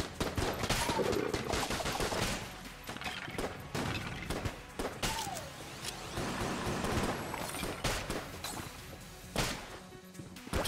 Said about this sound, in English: Jolter is a pretty good gun. Shots might be a little bit too large